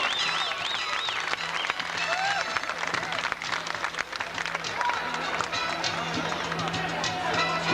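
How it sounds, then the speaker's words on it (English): Steady applause from a crowd at the 1990 Nintendo World Championships in Oakland fills the space, with talk and cheering mixed in underneath throughout. "Give them a great big round of applause."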